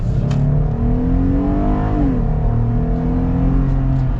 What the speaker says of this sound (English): The V6 sounds pretty nice as well.